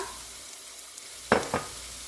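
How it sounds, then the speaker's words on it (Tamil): Turmeric, garam masala, pepper powder and chili flakes sautéing in a pan for potato roti; a quiet sizzle is broken near the end by two quick, close stirring scrapes. "இந்த மசாலாக்கள் வதங்குறதுக்கு ஒரு கொஞ்ச நேரம் வதக்கி விடுவோம்."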